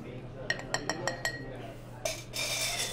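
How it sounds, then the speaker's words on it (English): Glass chinks repeatedly as fresh strawberries, mint and basil are muddled in it for a tequila drink, five or six light, evenly spaced clinks followed by a brighter scraping rattle, over quiet room tone. "You hear the tingling of the glass."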